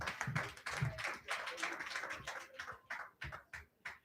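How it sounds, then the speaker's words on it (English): Scattered audience clapping for panelists at a breakfast dialogue event, fairly faint and uneven, with individual claps distinct and thinning out toward the end. "Ladies and gentlemen, a round of applause for all of our panelists"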